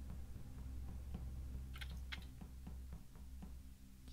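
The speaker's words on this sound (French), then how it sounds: "Qui est pas mute sur le Discord là, qui joue avec le clavier" Computer keyboard typing comes through a Discord voice chat during an Among Us session, as a string of faint, irregular key clicks over a low steady hum.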